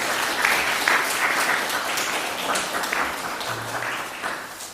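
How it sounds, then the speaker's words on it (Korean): Congregation applauding in welcome during a Korean church Sunday worship service, a steady dense wash of many hands clapping throughout, moderately loud with faint voices underneath. "우리 옆에 있는 분들 박수로 환영하겠습니다."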